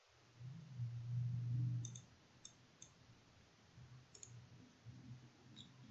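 A few soft, scattered computer mouse clicks while working in mapping software, quiet and close, set against a low steady room hum.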